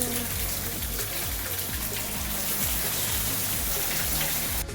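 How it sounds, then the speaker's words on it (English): Rain falls steadily on an old house under partial demolition, a loud, dense, continuous patter and splashing of drops on surfaces, close and unbroken throughout. "Then it started raining"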